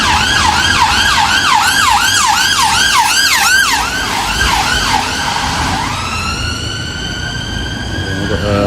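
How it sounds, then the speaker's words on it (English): An ambulance siren wails loudly in a rapid rising-and-falling pattern for about six seconds, then a second siren with a steady sustained tone follows as the emergency vehicles pass close by on a busy road. "Here's some sirens coming."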